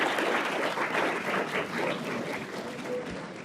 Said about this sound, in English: How about a round of applause for all of our students?